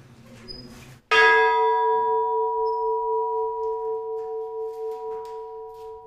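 A single church bell strikes loud and close after a second of low background murmur, its long humming tone ringing on and slowly fading for several seconds.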